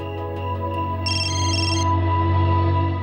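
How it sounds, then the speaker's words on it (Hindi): A telephone ringtone chirps in a short bright burst over a steady indoor background hum, during a dramatized Indian crime-show household scene. "तुम्हारी आंटी का फोन।"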